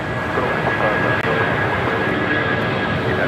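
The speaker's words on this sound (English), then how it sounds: "the A350-900 coming in from Helsinki" An Airbus A350-900 jet arriving from Helsinki on short final at Los Angeles airport, its steady broadband engine roar filling the air loud and continuous throughout with no break.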